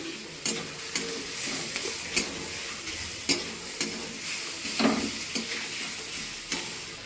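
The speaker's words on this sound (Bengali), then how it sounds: "ওর সঙ্গে টমেটোটা দিয়ে দিলাম, টমেটোটা একটু ভাজবো" Onion and tomato fry in a pan with a continuous soft sizzle, broken by sharp clinks and scrapes of a spoon stirring about once a second, close by.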